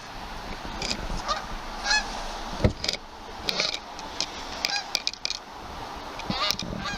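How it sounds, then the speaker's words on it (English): Geese honk repeatedly overhead, a loose series of nasal calls at moderate distance over faint outdoor background noise. "The geese are flying high."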